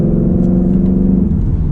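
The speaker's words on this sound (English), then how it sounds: "This car sounds so good, especially when you rev it up" A Ford Mustang GT's V8 idles at a deep, steady, loud rumble with active exhaust, heard up close, with a slight rise in pitch near the end.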